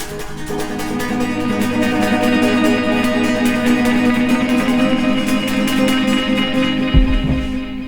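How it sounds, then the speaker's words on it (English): Electric guitar played with volume-knob swells and delay for Ed's part, a sustained, washy, layered tone that rises smoothly and fills the space, with a low thump near the end. "When you come in with Ed's part in this section, I'm using a volume knob to sort of gradually come in."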